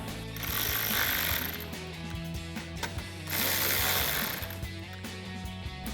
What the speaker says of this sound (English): we'll tighten those two down with our 10mm socket